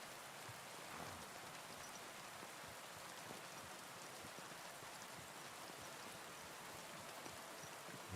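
Heavy rain pours in a steady, dense hiss of drops hitting surfaces, quiet and even throughout with no voices, only a slight swell near the start.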